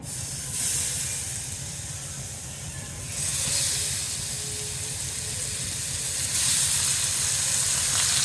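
Hot oil in a frying pan sizzles loudly and continuously at close range, and the hiss swells in bursts as food is added; no one speaks.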